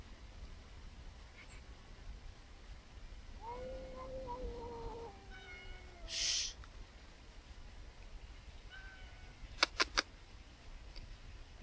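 A cat gives a few faint, drawn-out meows in a quiet room, followed by a brief soft noise and some small clicks.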